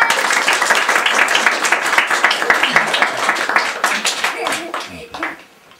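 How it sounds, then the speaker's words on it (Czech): An audience at a Jára Cimrman-themed event applauds steadily as an engineer named Kubát enters, dense clapping that tapers off near the end, with some voices underneath. "A vy všichni zatleskejte!"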